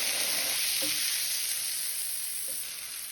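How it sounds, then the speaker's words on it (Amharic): Garlic and boiled macaroni sizzle in a frying pan, a steady bright hiss running throughout while the pasta is mixed, with only faint stirring touches and no voices. "በዚህ መልኩ እንግዲህ እናቀላቅላለን ማለት ነው።"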